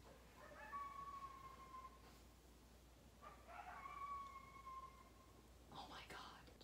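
Coyotes howl at night near a house, several drawn-out, wavering calls sounding faint and far away, with soft whispering close by.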